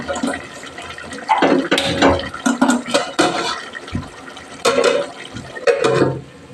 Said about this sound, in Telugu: వాటర్ వేసుకున్నాము